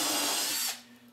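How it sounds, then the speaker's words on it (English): A power drill bores a single hole through wood during a woodworking assembly, whirring loud and steady and then winding down near the end. "and drill one hole."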